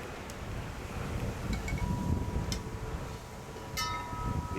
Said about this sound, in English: The evening wind is picking up.